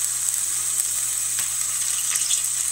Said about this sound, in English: Well, they're sizzling away nicely.